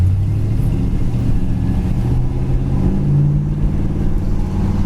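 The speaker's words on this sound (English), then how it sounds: "Engine sounds good, dual exhaust sounds really nice." A 1968 Ford Galaxie idles and runs steadily with a deep, even rumble through its dual exhaust, holding loud and close for the full stretch.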